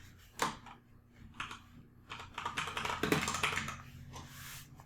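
Someone types code on a computer keyboard in RStudio, quiet clustered key clicks in uneven bursts that swell into a busier flurry toward the end.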